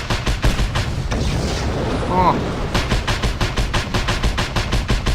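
Rapid gunfire and heavy blasts from shooting explosive objects such as barrels in the open-world action game Just Cause 2. Steady bursts of shots bracket a rumbling explosion, loud and close, with a brief spoken exclamation.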